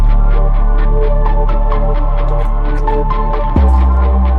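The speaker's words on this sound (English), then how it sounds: "notice like a lot of that sound is the reverb" Synth notes washed in heavy reverb, repeating in a steady throbbing pulse over a deep sustained bass layer, ending with a sudden low drop.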